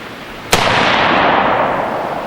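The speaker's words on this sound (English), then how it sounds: "First up is 2 shots with a bare muzzle." An AR-15 rifle with a bare muzzle fires a single loud, sharp report, followed by a long, broad echoing tail that slowly fades.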